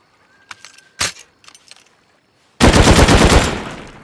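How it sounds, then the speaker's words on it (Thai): An automated turret in the video game Rust fires a sustained loud burst of rapid gunfire that fades at the end, preceded by a few short clattering and clicking game sounds. "ไอ้ป้อมปืนชั่ว"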